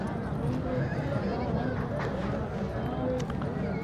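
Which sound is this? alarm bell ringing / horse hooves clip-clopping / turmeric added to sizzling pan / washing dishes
horse hooves clip-clopping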